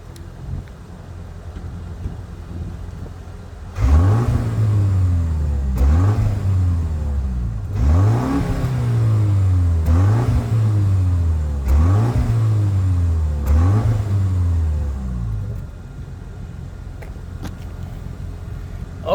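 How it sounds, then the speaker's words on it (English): A 2024 BMW X1 M35i's engine idles, then revs up and drops back over and over, a string of throaty quad-exhaust bursts, before settling to a low idle. "Let's hear what that exhaust sounds like."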